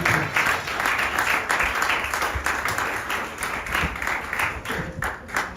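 A church congregation claps and applauds steadily throughout, a dense, even wash of many hands at fairly close range with no pause.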